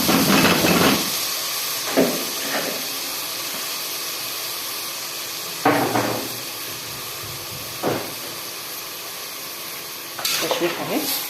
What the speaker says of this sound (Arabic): اهي البصله اهي هنزل عليها بالرز.